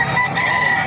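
Rooster crowing at a gamecock market in Calumpit, Bulacan, one loud, close, sustained crow held steady through the moment, with no talking.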